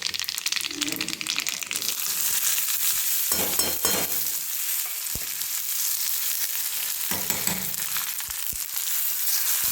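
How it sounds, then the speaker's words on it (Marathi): Chopped onions hit hot oil with mustard seeds and cumin in a pan for a samosa filling, giving a constant crackling sizzle broken by scraping stirs of a spatula. "आता कांदे टाकायचे आपल्याला"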